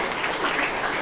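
A school class applauds a student's quiz score, a dense steady burst of many hands clapping at once, loud and close throughout the short span.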